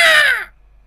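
A crow gives one loud, close, harsh caw that falls slightly in pitch and cuts off after about half a second, followed by quiet.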